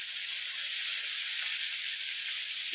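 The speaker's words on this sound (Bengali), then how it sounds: "পেঁয়াজগুলো ভেজে নেব।" Two small chopped onions frying in a pan give a steady, loud, close hiss of sizzling oil. The sound is even from start to finish and no one speaks.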